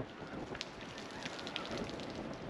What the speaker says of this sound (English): Huge amount of rain coming down.